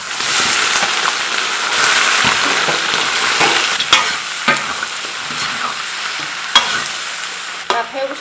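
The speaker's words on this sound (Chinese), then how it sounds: "把排骨上的水分炒干" Pork ribs stir-fry in caramelized rock sugar in a wok, a loud, close sizzle with repeated scraping stirs and sharp clanks of the spatula, continuous and busy throughout.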